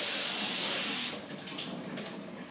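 Lukewarm tap water running to rinse a Phalaenopsis orchid and its aerial roots, a loud steady hiss of flowing water that softens into splashing and trickling as the plant is moved under the stream.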